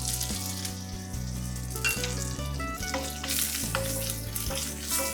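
Mustard seeds, cumin, dry red chillies, curry leaves and turmeric sizzle in a hot tempering for coconut chutney, a steady close frying crackle that runs throughout with faint tonal sounds over it.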